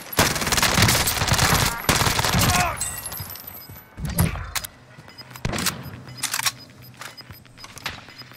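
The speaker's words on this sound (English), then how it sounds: "somebody's shooting me" Rapid bursts of video game gunfire crackle loudly in close succession, then thin into sharp scattered shots and clicks, with players talking over the action.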